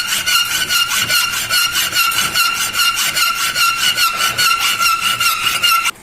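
A hacksaw cuts through a metal dovetail piece in steady, rapid back-and-forth strokes, each stroke giving a bright rasping scrape, close and alone.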